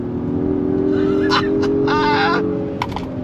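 Acura MDX Type S with a 10-speed automatic accelerating hard in Sport Plus mode on a winding road, a steady engine drone from inside the cabin with brief voices over it.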